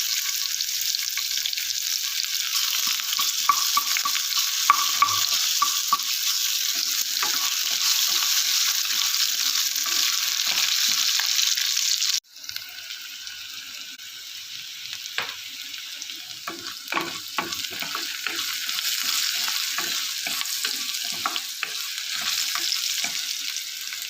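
Ginger garlic paste fries in a curry pan while ridge gourd curry is being made. A loud, steady sizzle runs throughout, then drops suddenly halfway as stirring sets in, and the spoon scrapes and clicks against the pan.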